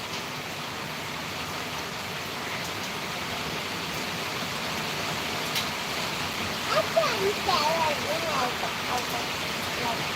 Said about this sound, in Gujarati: અહીંયા પણ જબરદસ્ત વરસાદ એવો ચાલી જ રહ્યો